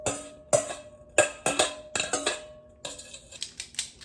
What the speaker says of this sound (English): we need to dump in all the veggies we just chopped